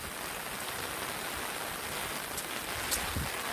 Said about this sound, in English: I've never seen so much rain before. I'm under an umbrella